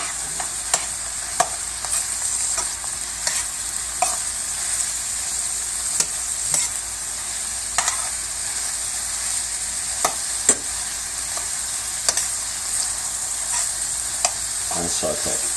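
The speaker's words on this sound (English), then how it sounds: "And we just want to stir these up." Snow peas, mushrooms and chopped Maui sweet onions sizzle steadily in a hot pan while being stirred, a constant frying hiss broken by regular light spatula taps and scrapes, close and moderately loud.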